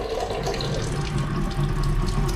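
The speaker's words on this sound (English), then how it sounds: "And this is my sink water pressure." Water runs steadily from a sink tap used for washing dishes, a continuous, even splashing hiss with no breaks, heard alone at moderate loudness.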